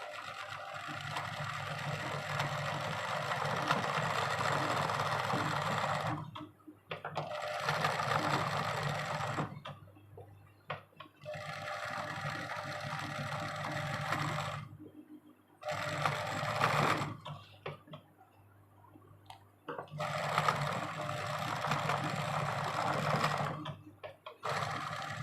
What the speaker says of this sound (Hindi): ठीक है, ऐसे लेंगे और चारों तरफ कच्ची सिलाई कर लेंगे।